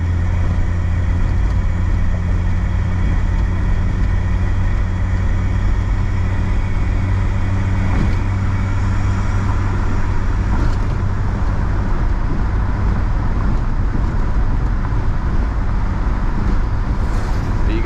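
A 1963 AMC Rambler 330 wagon drives and shifts up through its gears to highway speed, its quiet engine a steady low hum under constant road and wind rumble from inside the cabin.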